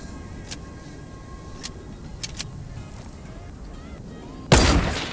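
Gunshots in the video game Fortnite: a few faint, sharp cracks spaced apart, then one loud, close, sustained blast near the end over steady background game noise.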